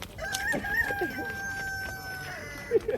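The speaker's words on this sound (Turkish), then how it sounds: "Helal sana be horoz." A rooster crows with a long, sustained cock-a-doodle-doo outdoors in Fethiye, moderately close, followed by a brief burst of clucking at the end.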